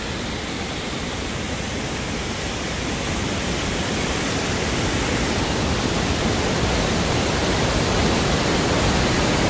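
A waterfall roars from a viewing platform directly above it: a loud, steady wash of broadband rushing water that fills the whole stretch without a break and with no voices.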